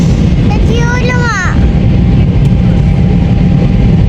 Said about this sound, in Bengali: এই হচ্ছে বিমানের পরিবেশ।